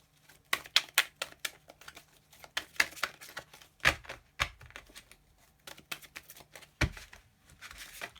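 A deck of oracle cards being shuffled by hand, quiet and close, with irregular bursts of soft crisp card slaps and riffles separated by brief pauses.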